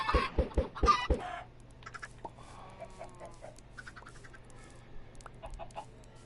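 Minecraft chickens cluck in a quick burst of four or five loud clucks, then softer scattered clucks and game sounds follow over a low steady hum.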